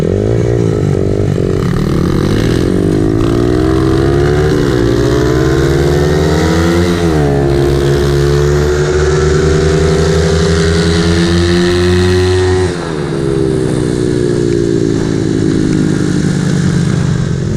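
A Honda 50 motorbike fitted with an 88cc big bore kit revs hard and close, its engine pitch climbing steadily through the gears with brief drops at each shift, loud and continuous.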